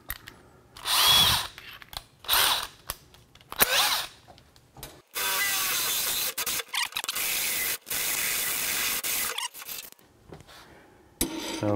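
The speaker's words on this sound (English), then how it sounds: "It's a step drill with multiple diameters that you can cut into sheet metal." A power drill fitted with a step drill whines in short bursts, then runs in a long steady grinding cut through sheet metal, stopping and restarting a few times; loud and close.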